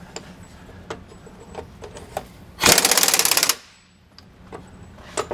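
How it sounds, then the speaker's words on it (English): A power drill runs nuts onto an anti-sway bar on a 2015 Ford F-53 in one short burst of about a second, rattling loudly amid scattered faint clicks and knocks before and after. "I'm going to go ahead and run this up a little bit with my drill"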